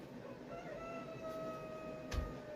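Rooster crowing outdoors at a distance, one faint drawn-out crow in a quiet setting, ending with a brief nearby knock.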